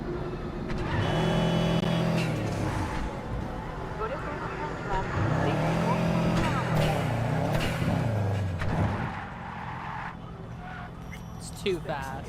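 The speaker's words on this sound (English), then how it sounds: "This car is fast, but the problem is it's fast." Fast car driven in the video game Cyberpunk 2077, its engine revving up and shifting through gears in loud rising sweeps, then easing off with tire noise, a voice talking over it.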